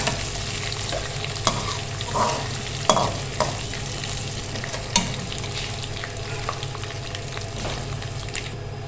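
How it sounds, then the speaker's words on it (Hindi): Fennel seeds roasting in a pan for jaggery rice, a soft continuous sizzle broken by scattered stirring scrapes and light taps, no voices. "ये 2 टेबलस्पून मैंने लिया सौंफ। इसको थोड़ा सा भूनेंगे।"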